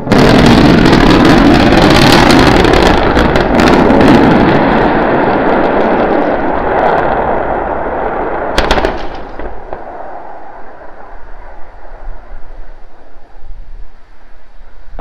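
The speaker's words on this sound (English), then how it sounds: "We're preparing to restart two engines, flip the vehicle vertical, then transition to one engine for the landing burn." SpaceX Starship SN15 engines roar loud and close at first, a dense crackling rumble that fades over several seconds, then a sharp burst and irregular popping and rumbling trail off.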